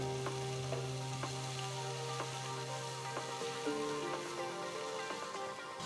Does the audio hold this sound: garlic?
yes